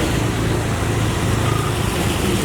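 Car engine noise by a roadside near a hotel gate, a steady broadband rumble that holds for the whole stretch without a clear pass-by peak, with no talking.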